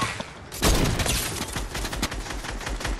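A sniper rifle shot in a first-person shooter game lands as a sharp report, followed by sustained loud gunfire and clattering game noise that continues to the end.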